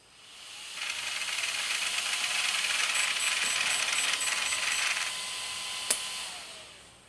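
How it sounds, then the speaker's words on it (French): Cooling fan on an RC car's electronic speed controller whirs with a steady high hiss for a few seconds, then drops away and fades out after a brief click. "le ventilo tourne encore un peu plus longtemps"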